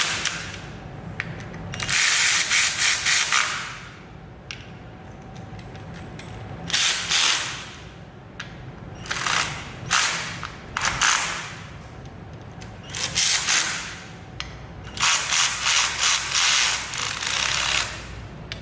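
A ratchet torquing the clutch bolts of a Harley-Davidson clutch kit, with repeated bursts of fast clicking pawl strokes separated by short pauses, close and loud with no talk.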